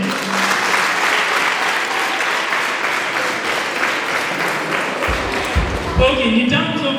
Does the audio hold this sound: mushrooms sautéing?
no